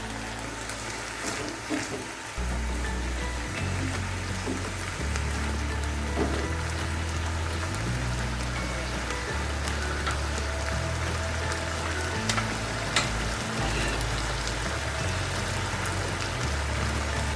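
Rice for chicken and vegetable fried rice sizzles as it is stir-fried with black pepper and salt, a constant rain-like hiss over a low droning hum that continues throughout, with no talking.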